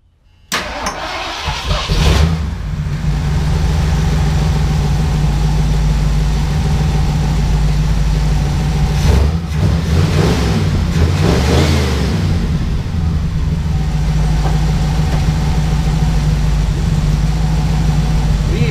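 A 1978 Ford Bronco engine cranks and catches, then settles into a loud, steady running rumble up close, with a couple of brief rev swells partway through, while the truck runs poorly on bad gas.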